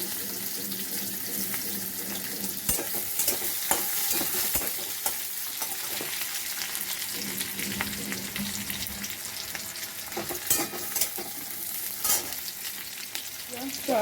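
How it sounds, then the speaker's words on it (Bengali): Small chopped onion with black cumin seeds fries in a pan, a continuous close sizzle broken by scraping stir strokes, with no voices. "পেঁয়াজটা ভাজা ভাজা হয়ে গেলে"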